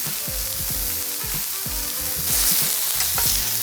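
Fajita steak marinated in lime juice, seasoning salt and beer sizzles on a hot grill, a dense steady frying hiss with close, rhythmic lower crackles and pops.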